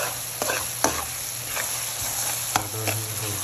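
Pumpkin sabzi stir-frying in a pan, a steady loud sizzle punctuated by several sharp clicks of a spatula scraping and stirring, close up with a faint constant hum underneath.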